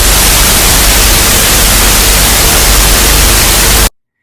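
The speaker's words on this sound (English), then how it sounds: "it started flashing black, red, and white, then went to static." Loud, harsh static hiss from a haunted Mario Kart Wii creepypasta glitch fills the air evenly for about four seconds, then cuts off abruptly into silence.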